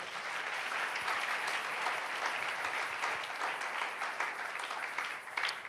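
A church congregation applauds in steady, dense clapping that fills the space continuously, loud and close, with faint voices mixed in.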